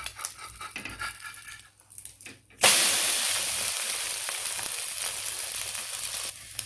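An egg omelette is flipped in a pan after quiet handling sounds, then bursts into a sudden loud sizzle that slowly settles into steady frying hiss.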